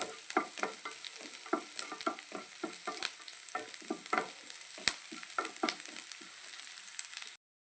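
Ginger and garlic sautéing lightly in a pan, a soft steady sizzle broken by frequent spatula stirring scrapes, close and fairly quiet, with no voices, ending abruptly.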